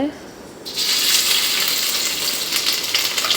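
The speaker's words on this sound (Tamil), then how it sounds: "இஞ்சி பூண்டு வெங்காயம் எல்லாம் போட்டு வதக்கிட்டு" Ginger, garlic and onion sautéing in hot oil for mutton chukka, a loud, steady sizzle that flares up after a quiet start and then holds dense and hissing throughout.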